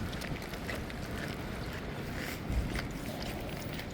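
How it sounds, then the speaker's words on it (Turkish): Outdoor wind rumbles and buffets the microphone near Berlin Hauptbahnhof, a steady low roar with faint background noise throughout and a slightly stronger gust near the end. "Biraz esiyor boşluğa gelince."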